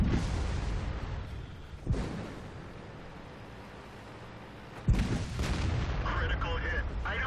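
Tank cannons fire in the game World of Tanks, two heavy booming shots several seconds apart over a rumbling engine bed, each a sharp loud blast with a decaying tail, while a game voice speaks in between.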